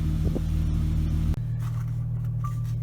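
An AWD Chrysler 300 3.6 V6 with custom exhaust and intake rumbles steadily at low volume; partway through, the engine note drops abruptly to a lower, settled hum, as in a gear change.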